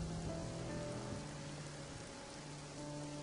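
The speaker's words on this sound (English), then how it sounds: "I love listening to the sound of rain" Steady rain falls on a surface, a dense continuous hiss of drops with a faint low rumble beneath, no voices present.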